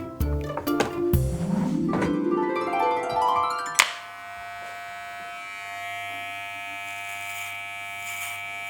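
Electric hair clippers start up and buzz loudly and close, a strong steady hum whose pitch sweeps upward as they spin up, then they drop to a softer sustained whine after a sharp thunk.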